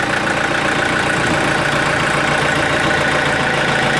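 Backhoe diesel engine running loud and close under added throttle, a steady dense rumbling drone with no talking over it.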